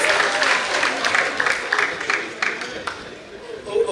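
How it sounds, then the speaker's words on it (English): Audience at an African emerging markets conference with Central Bank staff clapping, a dense wash of applause with a speaker's voice over it. "All these women in Central Bank that are clapping like that"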